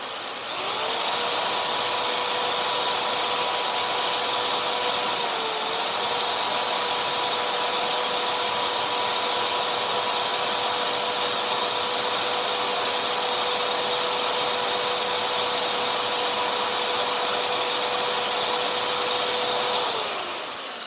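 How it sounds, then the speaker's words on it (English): An electric wet sander smooths a designer toy part, running as a steady, loud motor whir with a constant hum for about twenty seconds with no talk, starting and stopping cleanly. "Then I'll hit it with a wet sander, and this part will be ready for the next step."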